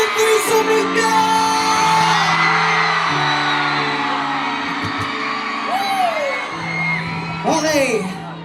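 Concert crowd in Baybay City, Leyte, groups of fans whooping, yelling and cheering loudly in sustained waves, with sharp individual shouts rising near the end.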